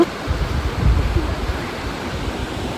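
Steady broadband rush of a forest waterfall at a Maredumilli viewpoint, a continuous close wash of falling water with no voices over it.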